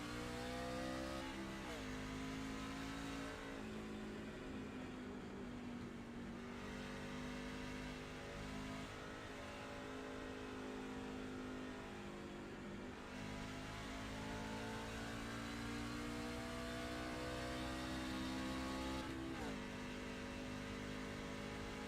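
Racing truck engine on Pocono's Tricky Triangle in a sim racing game, a continuous loud in-cockpit drone rising and falling with a few gear shifts and lift-offs through the corners, with no talk.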